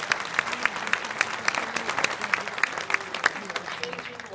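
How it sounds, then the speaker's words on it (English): Audience applause rises at a corporate event celebrating donated meals for children, brisk crowd clapping with scattered cheers, fairly close and steady for a few seconds. "I think that deserves a big round of applause."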